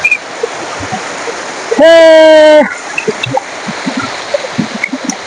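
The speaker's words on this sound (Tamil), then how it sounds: "கொடி அருவி கொட்டுது அடி மேல" A waterfall pours in the Kolli Hills, giving a steady, moderate rush of water throughout. Voices talk nearby, and a brief, clear tonal sound rises over the water partway through.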